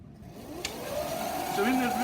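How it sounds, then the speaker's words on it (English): An electric race car's cooling fan whirs steadily in the background, a constant mid-range hum with a faint rising whine and a brief click, all level and continuous. "that's a fan you can hear in the background"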